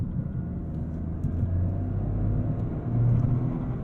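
A 2023 Toyota GR Corolla Core on the move gives a steady, low engine and road rumble from inside the cabin, with a slight swell in revs near the end.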